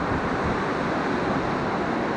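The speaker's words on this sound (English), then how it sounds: "Oh, the wind's starting to die down a bit, it looks like." A strong windstorm roars in a steady broadband rush that buffets the microphone, loud and continuous with no pauses.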